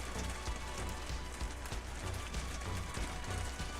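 Intense rain falls in a dense, steady hiss with scattered heavier drop impacts, loud and continuous throughout without any voices.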